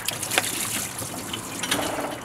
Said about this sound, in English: Now pour it over the belts.